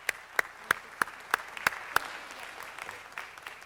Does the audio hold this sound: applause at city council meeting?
yes